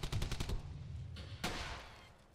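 Rapid machine-gun bursts rattle in Brothers in Arms: Hell's Highway, a quick string of sharp shots followed by a single louder crack and fading echo.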